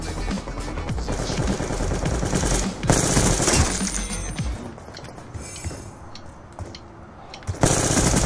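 Rapid automatic gunfire from a sniper video game crackles in dense, loud bursts, with sharper shots and clinking impacts following, then a quieter stretch before another burst at the end.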